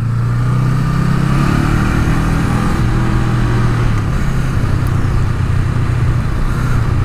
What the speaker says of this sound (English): Now I'm going to take this bike out of its comfort zone